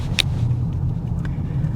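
A 2024 Polestar 2 electric fastback drives through a roundabout, heard from inside as a steady low road rumble and tyre hum, with a faint tick partway through and no engine note.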